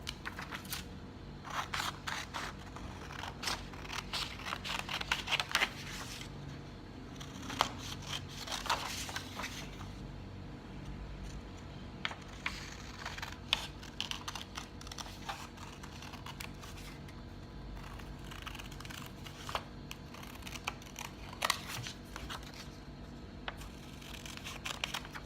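Scissors cut out a paper dress pattern in a long run of small, crisp snips and rustles, close and fairly quiet, with paper handling between cuts.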